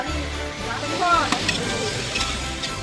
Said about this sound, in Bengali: আমি এখানে বেগুনগুলো 4 বার ধরে ভেজে নিলাম এবং তেলে ছেঁকে রেখে দিয়ে